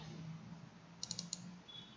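Computer mouse clicking, a quick burst of four light, crisp clicks in a row at close range over a quiet room hum, with no talking.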